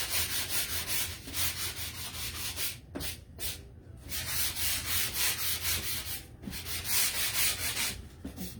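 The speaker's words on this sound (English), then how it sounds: "let's just sand that little spot a little bit." Sandpaper rubs back and forth over a spot on a wooden floral decor sign, giving close, steady rhythmic scratchy strokes with a few brief pauses and no voices.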